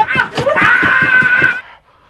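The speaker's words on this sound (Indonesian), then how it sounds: "membuat si psikopat berteriak keras sekali karena kesakitan" A man in a thriller film screams loudly in pain, a long anguished wail broken by sobbing gasps that cuts off into near silence.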